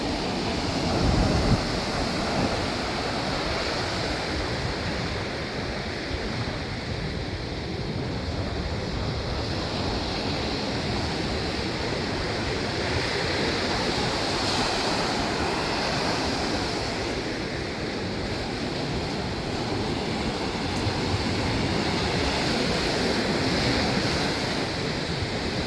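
Ocean surf at Bondi Beach, Sydney, a continuous broad roar of breaking waves mixed with wind buffeting the microphone, loud and steady for the whole stretch with no voices.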